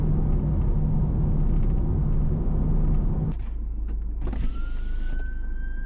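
An emergency vehicle siren sounds as it passes, rising in pitch after a heavy rumble of traffic cuts off abruptly, with road noise underneath.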